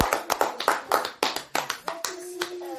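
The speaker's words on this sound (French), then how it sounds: "Applaudissons pour le Seigneur" Congregation clapping together at a French-language church service, a dense run of sharp, rhythmic hand claps that thins out near the end, with a faint sustained tone underneath.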